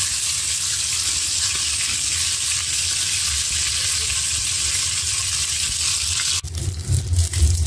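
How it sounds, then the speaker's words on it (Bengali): Fish (kali baul) frying in oil in a pan gives a steady, loud, close sizzle that changes near the end into rougher, uneven crackling with some clatter. "একটা ভাজা হয়ে গেছে, একটা ভাজা হবে ভালো মতো।"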